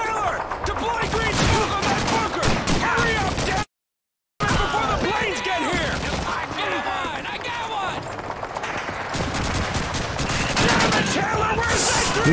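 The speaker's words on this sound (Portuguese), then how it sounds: "da onde eu tô tomando tiro, velho?" Dense gunfire from the Call of Duty 2 video game, played on Xbox Series X, rattles in rapid bursts and volleys nearly nonstop, cut by one brief gap of silence.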